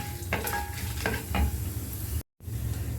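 Steady sizzling of turmeric and green chilies frying in a hot pan, with a few scraping stirs and a brief cut to silence.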